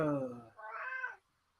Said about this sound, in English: if you hear meowing, I'm house sitting, and there's a cat right there